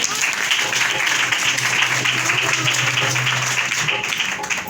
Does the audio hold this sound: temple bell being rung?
no